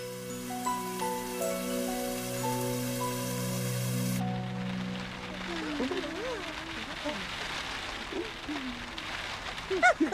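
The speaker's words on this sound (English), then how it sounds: "It rained and it rained and it rained." Steady rain falling in a children's television scene, a dense continuous hiss that follows a short musical passage, with a voice speaking over the downpour.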